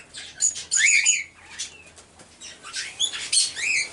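Pigeons kept indoors give bursts of wing flapping and soft chirps, close and intermittent against a quiet background.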